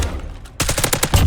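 Rapid automatic gunfire in the video game Warzone bursts in after a brief quiet lull, a dense run of loud, close shots in quick rhythmic succession.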